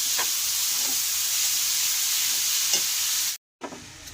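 Beetroot and carrot sauté in a pan with a constant hissing sizzle and faint, slow stirring scrapes, cutting briefly to silence before the frying resumes.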